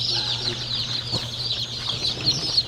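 Day-old pullet chicks and chickens at a poultry farm make a dense, constant chorus of high peeping with occasional clucks, moderately loud and steady.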